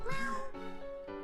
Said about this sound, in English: I can talk to the house cat.